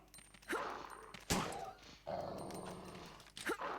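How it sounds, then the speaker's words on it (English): Zombie dogs in Resident Evil 3: Nemesis growl and snarl in several loud bursts separated by short pauses, with one sharp impact-like crack in the middle and no talking over it. "zombie dogs"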